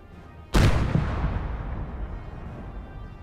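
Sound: artillery fire in a tank video game

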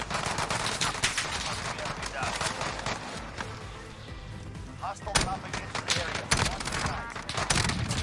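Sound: gunfire, from video game Call of Duty Warzone

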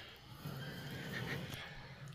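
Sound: pig squealing

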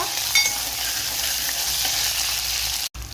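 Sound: thick-cut onions sautéing and being stirred for sambar

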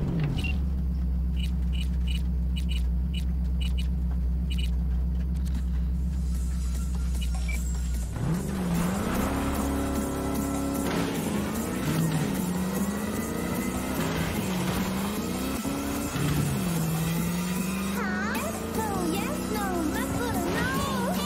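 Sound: car engine running, from video game Cyberpunk 2077

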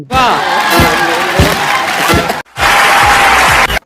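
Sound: audience applause and cheering

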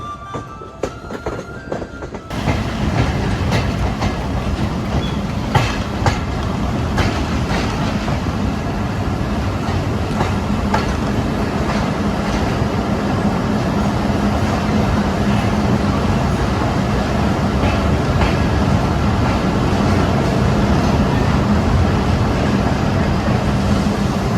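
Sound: train running on rails

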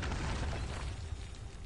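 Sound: artillery strike explosion in video game Borderlands 3

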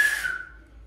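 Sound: old whistle being blown

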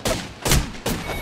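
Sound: gunshots in the video game Apex Legends

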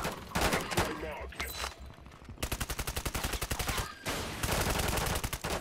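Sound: gunfire in the video game Call of Duty

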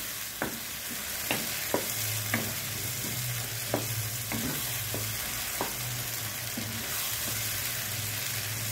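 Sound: tomato paste stirred into frying egg mixture

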